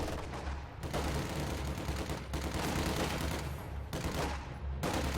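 A Company of Heroes-style battle with LMG Grenadiers, an MG42 and an M3 half-track rattles with dense, continuous machine-gun and rifle fire, a constant crackling barrage with distant thuds, moderately quiet and unbroken by speech.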